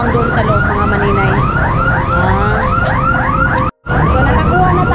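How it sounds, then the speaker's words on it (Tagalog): Rapidly repeating electronic wail, most like a car alarm or siren, cycles steadily and loudly from inside a building. The sound cuts out briefly near the end, then resumes. "Bakit parang may wangwang doon sa loob"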